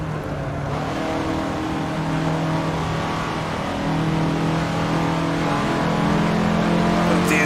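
A 1950s Indy race car in the Assetto Corsa racing game accelerates hard with a loud, continuous engine roar that climbs in pitch through the gears, close and steady throughout.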